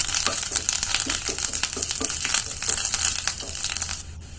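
Curry leaves and onions frying in hot oil for drumstick sambar, a close crackling sizzle with rapid popping bursts that fades off at the very end, no voices.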